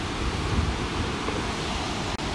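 An Icelandic waterfall roars as a dense, steady rush of falling water, loud and close, broken only by a brief dropout near the end, with no voices.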